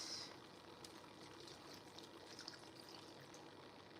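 Water poured into a pot of South African lamb stew with lamb bones and meat, a steady faint splashing stream running throughout with a small clunk at the end.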